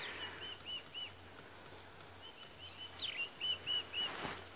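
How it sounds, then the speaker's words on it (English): Scrub robin calls, a series of high whistled notes repeated in short bursts, moderately distant over a quiet outdoor background with faint rustling. "There's some scrub robins calling."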